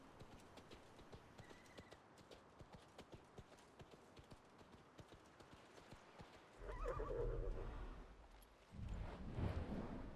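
A World of Warcraft paladin flying mount, a horse with fiery tail and glowing hooves, clip-clops in a steady rhythm of hoofbeats, then gives a loud whinny followed by a second neigh near the end.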